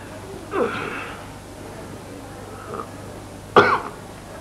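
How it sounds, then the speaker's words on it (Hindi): Two separate coughs, one soft and one sharper and louder a few seconds later, come from a person in a quiet indoor room. "कुछ खांसी सी हो रही।"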